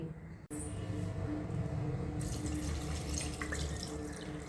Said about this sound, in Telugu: ఈ మటన్ కాస్తంత ములిగేలాగా మనం నీరుని కూడా పోసుకోవాలి.